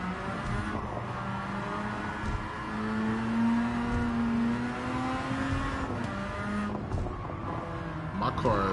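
Ferrari F50 engine in a Forza racing game, a steady sustained drone with rising and falling revs during a race, heard under ongoing speech at moderate level.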